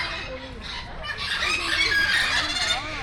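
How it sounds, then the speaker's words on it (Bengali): Geese honking and clucking at a city zoo in Kolkata in the late afternoon, a steady chorus of bird calls throughout with voices faintly mixed in. "বাহ, রাজহাঁস"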